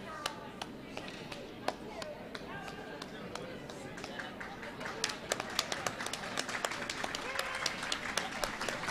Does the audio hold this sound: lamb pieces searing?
no